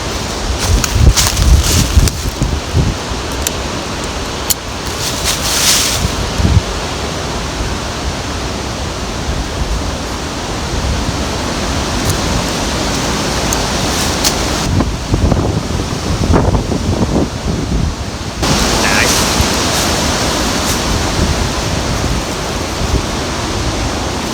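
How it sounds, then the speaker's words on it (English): Continuous roaring 65 mph wind at a hammock campsite, heavy gusts buffeting the microphone, loud and unbroken, with occasional sharp thumps and rustles from a flapping tarp. "It's a little bit on the windy side"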